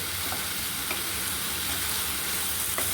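Carrot halwa stirred in a pan as it thickens and pulls away from the sides, giving a steady, close scraping and sizzling texture with a few sharp utensil clicks, heard alone.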